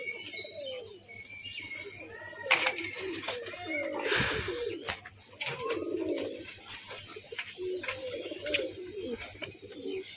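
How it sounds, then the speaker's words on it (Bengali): A male pigeon coos repeatedly in low, throaty rolls, close by, amid a busy backdrop of other birds chirping, with occasional faint human voices. "বাহ খুব সুন্দর একটা নর পায়রা"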